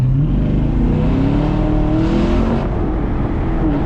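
Chevrolet Camaro SS accelerating in a lower gear, its V8 engine droning loud and close from inside the cabin, with rising revs and no talking.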